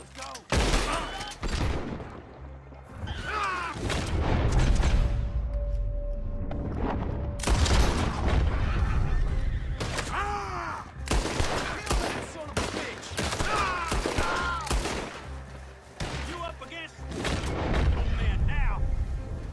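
Gunfire in Red Dead Redemption 2, with repeated loud shots and bursts in a busy game scene mixed with voices and music across the whole stretch.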